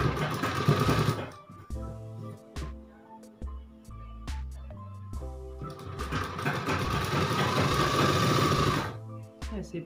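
A sewing machine stitches a folded strip around the neckline of a girl's midi dress, running steadily in two long bursts with a pause between, close and fairly loud over background music.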